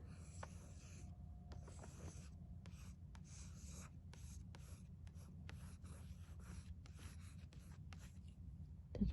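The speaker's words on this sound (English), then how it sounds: "So erase it, and we'll do another one." Erasing pencil tracing on paper gives a soft, close, quiet rubbing in short repeated strokes, with faint breaths between them and no talking.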